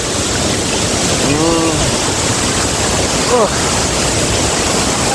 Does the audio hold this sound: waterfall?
yes